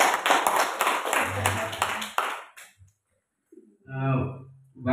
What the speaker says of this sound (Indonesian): Tepuk tangan kepada semua.